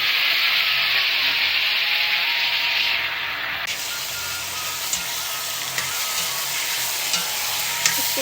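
Tomatoes sizzle and fry with browned onions in a pan, a steady loud hiss running throughout while a spoon scrapes and stirs now and then, with small clicks near the end.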